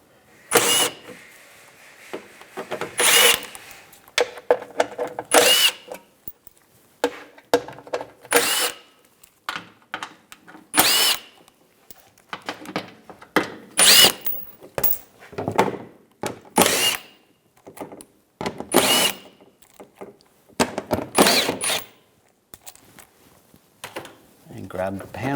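Power tool driving an 8mm socket to back out cover screws on a 2006-2009 Mercedes-Benz E350, loud close bursts of whirring repeated a dozen times with short pauses between, alongside someone speaking.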